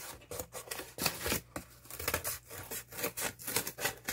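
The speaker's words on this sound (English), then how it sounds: "I'm going to cut out one more" Scissors snip steadily through cardboard while a circle is cut out, giving a close, rhythmic series of crisp crunching cuts with no speech.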